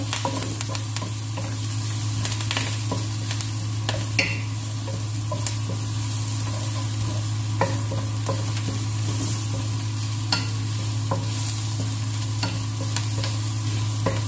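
Curry leaves fry in a pan with a steady crackling sizzle while a spoon stirs, scraping and tapping at irregular intervals over a constant low hum, close and unbroken by speech.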